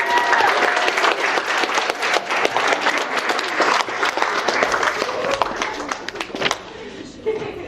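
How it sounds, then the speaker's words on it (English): A wedding reception crowd applauds during the speeches, a dense, lively round of clapping close to the listener, with voices under it, thinning out toward the end. "Another round of applause for MJ"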